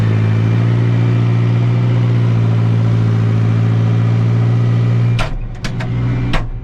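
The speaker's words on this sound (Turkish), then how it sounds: "traktöre bindiğin zaman şu sesi duyduğun zaman adam iş yapası geliyor" A Massey Ferguson 5430 tractor engine idles with a deep, steady rumble close by, then a few sharp knocks and a shift in tone near the end.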